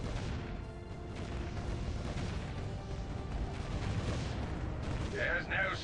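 Cannon towers in the Defense Grid tower-defense game keep up dense, rapid booming fire through a late wave, a continuous barrage of thuds with sharper crashes near the end.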